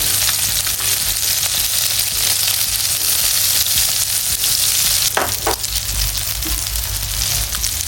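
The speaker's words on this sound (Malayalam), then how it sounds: "ഇതിൻ്റെ തോലെല്ലാം ഉരുകിയിട്ട് നന്നായിട്ട് പൊരിഞ്ഞ് വന്നിട്ടുണ്ടെങ്കിൽ നമുക്ക് ഒരു പാത്രത്തിലേക്ക് മാറ്റാം" Chicken frying in a pan as the skin melts and crisps, a loud continuous dense sizzle with a couple of brief stirring scrapes midway.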